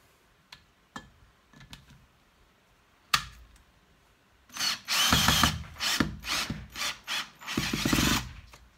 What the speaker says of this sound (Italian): Provo l'avvitatore con 40 Nm e vediamo se va meglio.